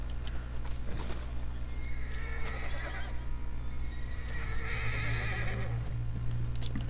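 A horse whinnies loudly in a game scene, with clip-clopping hooves and steady background noise throughout.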